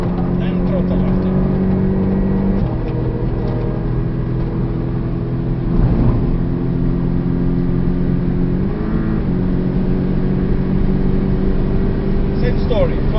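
A Porsche 718 Cayman S engine held at full throttle on the Portimão circuit, heard from inside the cabin as a loud, steady, droning roar whose pitch climbs and shifts through gear changes, with a voice speaking over it.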